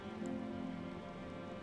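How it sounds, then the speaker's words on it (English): Rain falling in the Elden Ring Shadow of the Erdtree game world: a steady, soft patter and hiss with a low ambient hum beneath, brief and even, without talk. "Is it raining in game? It sounds cozy."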